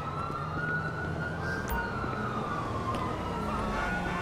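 Police car siren in GTA V, a continuous wailing tone that rises and falls slowly over engine and street noise, held steady and fairly close throughout.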